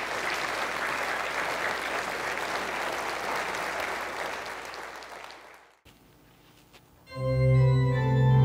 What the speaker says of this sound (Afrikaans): Kom ons klap vir hulle lekker hande